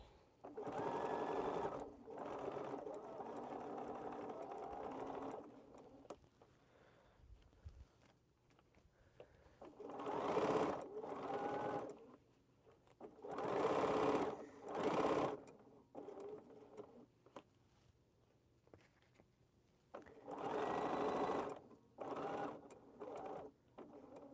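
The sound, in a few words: sewing machine running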